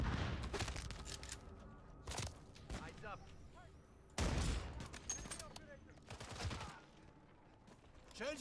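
Gunfire in Call of Duty Modern Warfare III, scattered loud bursts and single cracks spread across the moment with quieter gaps between, mixed with game effects.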